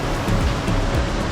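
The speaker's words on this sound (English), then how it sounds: "nice big waterfall down there" A big waterfall roars through a Blue Mountains canyon, swollen after rain, as a loud, unbroken rushing wash of water.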